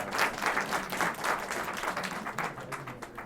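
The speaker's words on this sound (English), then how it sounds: "Give another round of applause." Audience applause fills the hall at the Consul General's Heritage Awards 2019 ceremony, a moderately quiet, continuous patter of many hands clapping that holds steady throughout.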